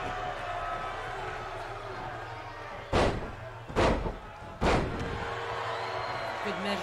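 Three heavy thuds of wrestling side slams hitting the ring mat in the WWE 2K19 video game, sharp, loud impacts spaced about a second apart over a continuous arena crowd murmur.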